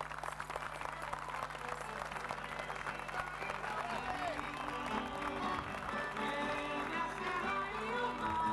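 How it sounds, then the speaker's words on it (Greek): Sustained applause and crowd noise at the 1994 Akriteia festival in Aridaia, Greece, steady and dense throughout, with voices and music mixed underneath. "Ας τους χαρίσουμε ένα τελευταίο χειροκρότημα."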